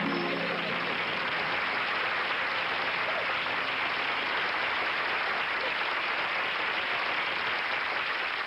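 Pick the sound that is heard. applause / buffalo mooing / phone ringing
applause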